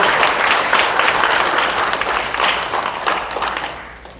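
Audience clapping at a book-launch talk concert greeting a former Seoul Library director as guests are introduced, a loud, full round of applause lasting a few seconds before thinning out.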